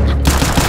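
Counter-Strike gunfire rattles out in a short, loud automatic burst of closely spaced shots. It sounds near and lasts under a second, with no speech.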